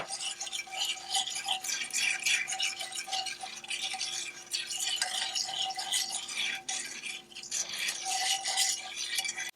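Caramel mixture being whisked in a pot for caramel apples, a steady scraping and clinking of the whisk against the metal continuing throughout, close and fairly quiet, with no talking.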